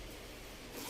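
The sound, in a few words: zipper on a sling bag being opened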